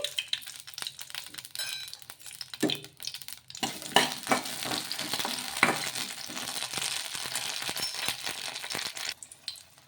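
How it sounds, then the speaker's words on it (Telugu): Green chillies frying in a little oil in a home kitchen pan, a steady close sizzle with intermittent stirring clinks and scrapes, quieter at first and then building to a continuous crackle. "కొంచెం నూనె వేసుకొని పచ్చిమిర్చిని వచ్చేసి మగ్గించుకోవాలి"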